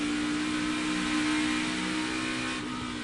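Kurt Busch's NASCAR Cup Series race car at Indianapolis Motor Speedway, captured from his helmet cam: a loud, sustained engine drone and whir with a steady pitch that dips slightly near the end.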